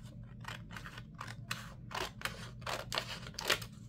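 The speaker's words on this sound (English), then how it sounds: "let's trim just a little bit off." Close scissors trimming paper for a Stalogy planner setup, a run of about eight short crisp snips and paper rustles in an uneven rhythm over a faint steady hum, with no talking.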